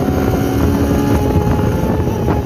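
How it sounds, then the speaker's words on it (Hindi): A motorcycle engine runs steadily and loud after being started, a continuous close drone with wind noise across the whole stretch, alone without talk. "इंजन सेट लगता है"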